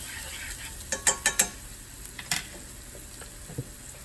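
Garlic and shallot sautéing in oil, a soft low sizzle punctuated by a few sharp metallic clinks of a utensil against the pan.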